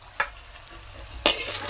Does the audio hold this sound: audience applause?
no